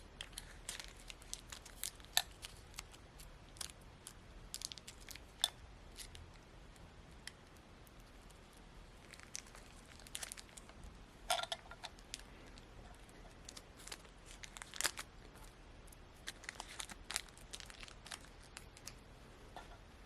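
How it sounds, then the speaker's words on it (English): Two-part wood epoxy putty kneaded by hand for a recliner T-nut repair, faint crinkly squishing and small ticks recurring irregularly at close range, no talking. "this is a two-part epoxy, so we want to actually just knead it to mix it together to activate it"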